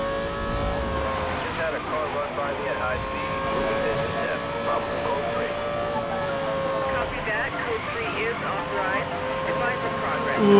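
Audi R8 GT Spyder sports car racing at high speed in Need for Speed Most Wanted (2012), a steady loud engine drone with shifting harmonic tones running throughout, while someone talks over it.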